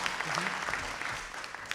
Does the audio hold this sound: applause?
yes